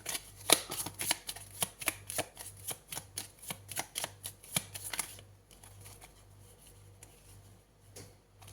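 Tarot cards are shuffled and drawn during a horoscope reading, a quick run of crisp riffling snaps close by that stops halfway, leaving a soft quiet handling rustle.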